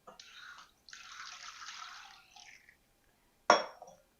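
Water poured into a cooking pot for pickle brine: two short pours with a brief pause between them, then a sharper splash near the end, close and fairly quiet, with no talk.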